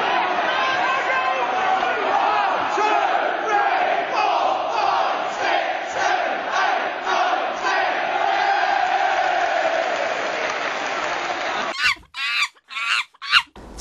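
Football fans in a stadium chant together loudly and continuously in a large crowd, ending in a few sharp, separate bursts of shouting.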